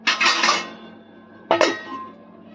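Two metallic clanks of a lid being set onto a pot in a home kitchen, the first with a longer ringing rattle and the second a sharper knock about a second and a half later, close and fairly loud.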